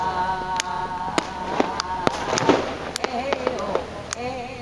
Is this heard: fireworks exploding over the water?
yes